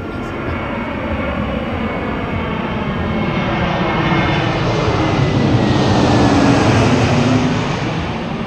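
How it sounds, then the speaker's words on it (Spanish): An airplane passes close overhead near the airport at a park in Tijuana, a broad, loud jet roar that swells gradually and then holds steady for several seconds. "Lo capté al momento de pasar el avión."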